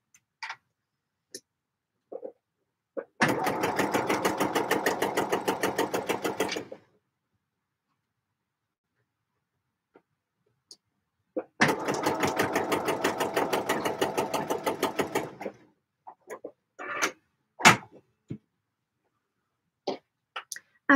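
A sewing machine stitches fluffy lining in two bursts of rapid, even mechanical ticking, separated by quiet pauses with small clicks and handling taps.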